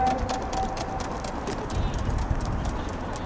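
Trotting horses' hooves clatter in a steady, continuous rhythm during a harness race at Tallinn Hippodrome, moderately loud against broad crowd and track noise, with a race commentator's voice faintly under it.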